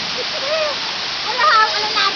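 Rushing water pours steadily and loudly during heavy monsoon rain in Tonsuya, a constant broad roar with people talking over it.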